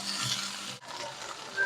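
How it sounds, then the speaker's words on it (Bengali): Okra frying in a little oil in a pan, a steady close hiss and sizzle that runs for a second and a half, with a short break partway through, and no voices. "তার জন্য আমি অল্প তেলে ঢেঁড়সটা একটু ভেজে নিচ্ছি।"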